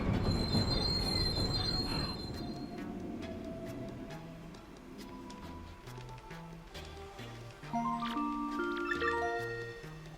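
A train rolls steadily along in Paper Mario: The Thousand-Year Door, with squealing wheels and a rhythmic clatter over a continuous rumble, while a bright tonal melody plays over it throughout.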